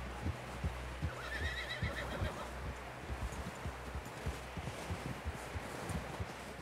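A horse in the Red Dead Redemption 2 video game gives a whinny, with clip-clop hooves stepping in a steady rhythm and faint rustling, all fairly quiet.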